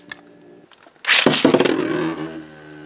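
A Hasbro Beyblade Burst Phantazus P2 top launched into a plastic stadium dish, a sudden loud whirring rush that settles into a steady spinning hum and slowly fades, preceded by faint handling clicks.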